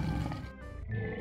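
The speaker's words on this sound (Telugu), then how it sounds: "షేర్ఖాన్ ఏమైనా చెయ్యక ముందే 2 పులులు తన మీద దాడి చేశాయి." Two tigers attacking in an animated story let out a short, close, rumbling roar, loud and growling, with no talk over it.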